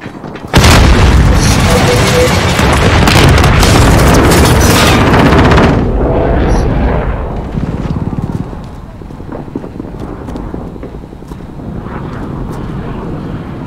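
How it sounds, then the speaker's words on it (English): A grenade explodes in Call of Duty: Modern Warfare, a loud booming blast with roaring debris and combat noise that runs about five seconds, then gives way to quieter rumbling battlefield ambience. "Grenade out!"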